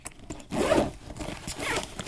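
A zipper pulls open along a nylon VRS Design phone case bag for Samsung Galaxy S22 cases, a close raspy zip followed by lighter scraping zip strokes, with no voices.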